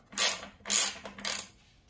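A half-inch ratchet with a deep well socket clicks three short bursts while taking a bolt off a John Deere X320 riding mower deck, close and crisp, with no talk.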